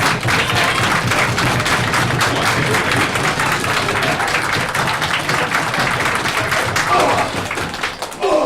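A wrestling crowd cheers and claps for Doug Williams, a continuous dense wash of applause and crowd noise that stays loud throughout and dips briefly near the end, with voices mixed in.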